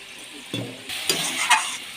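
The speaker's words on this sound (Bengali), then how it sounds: "এবার এটাকে ভালো করে নেড়ে নেব" Spinach and mixed vegetable curry stirred in a pan, a gentle sizzle with two or three brisk scraping strokes of the spoon, close and short, no voices.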